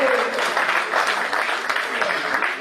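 An audience at a Hindi poetry recital applauds a recited verse, a full, continuous round of clapping from many people that stays steady and fairly loud across the clip.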